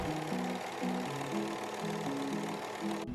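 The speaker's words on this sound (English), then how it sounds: "we're going to overlock or use a zigzag stitch to finish off all of the edges" An overlocker or sewing machine running a zigzag stitch along fabric edges of a romper hums steadily and loudly nearby, with a shifting motor pitch, before stopping abruptly near the end.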